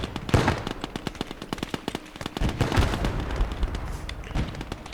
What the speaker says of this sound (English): they are using a pretty rubbish machine gun